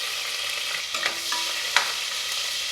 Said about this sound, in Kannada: ಮೆಣಸಿನ್ಕಾಯಿ ಫ್ರೈ ಆಗಿದೆ.